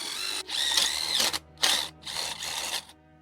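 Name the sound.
power drill widening holes in wire terminals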